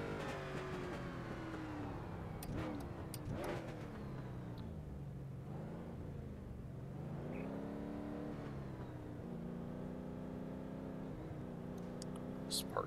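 Race car in iRacing driven slowly back to the pits, its engine droning and shifting pitch at moderate revs throughout, with a voice talking over it.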